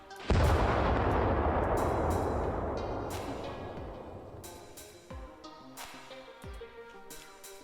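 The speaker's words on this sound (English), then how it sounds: "exploding barrel. We can shoot it, it makes a boom." Explosive barrel in a video game level is shot and blows up with a loud, sustained boom right at the start that rumbles and decays over several seconds, followed by scattered smaller debris impacts and crackles.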